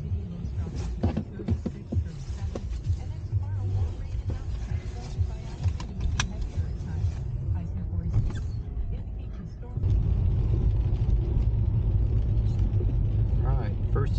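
A Subaru Legacy on a test drive after a brake and rotor install gives a steady interior road rumble and engine hum. The drone grows louder and fuller partway through as the car picks up speed, and people talk over it.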